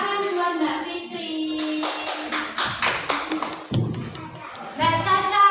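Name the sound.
children clapping for a classmate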